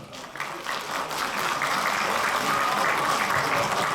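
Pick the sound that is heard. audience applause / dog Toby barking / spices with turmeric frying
audience applause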